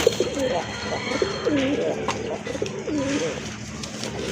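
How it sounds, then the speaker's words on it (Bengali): Rajgolla pigeons, a fancy breed with a unique light colour, cooing in a steady run of soft, low calls close by, with faint background noise. "আরেকটা পেয়ার চলে আসছে, এটা হচ্ছে রাজগোল্লা কবুতর"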